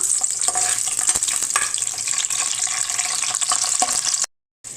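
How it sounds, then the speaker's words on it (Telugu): Green chillies frying in hot oil, a loud continuous close sizzle with faint stirring taps, cutting off abruptly near the end. "ఆయిల్ హీట్ అయిందండి కొంచెం పచ్చిమిరపకాయలు ఫ్రై చేసుకుందాం ఈ పచ్చిమిరపకాయలు కలదిప్పుదాం"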